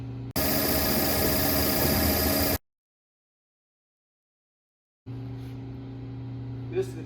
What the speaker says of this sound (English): We've got a motor through a planetary gearbox that drives the blade.